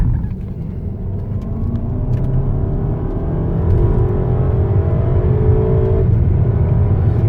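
A Volkswagen Passat TSI heard from inside while driving, its engine rumbling and rising in pitch as it accelerates, then dipping briefly at a gear change before pulling again, loud and steady with no talking.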